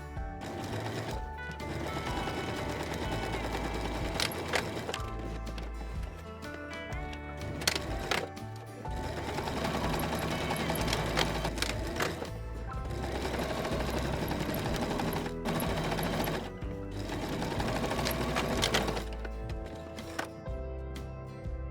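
A sewing machine stitches the side seams of a fabric tote bag in several long, rapid mechanical runs, broken by brief pauses and small clicks as the fabric is adjusted.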